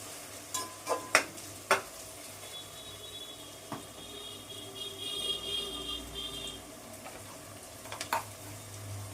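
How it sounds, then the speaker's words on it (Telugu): Tomatoes and onions frying in a pan with salt, turmeric and chili powder for a small-fish and raw-mango curry, giving a steady close sizzle broken by a few sharp stirring clicks and scrapes. "టమాటాలు ఉల్లిపాయలు బాగా వేగిపోయాయి"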